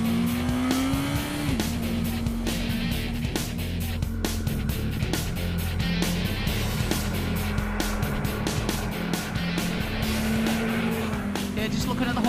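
A motorcycle engine pulls hard away from a roundabout onto a national-speed-limit road, holding a loud, steady drone close by while wind buffets the microphone throughout.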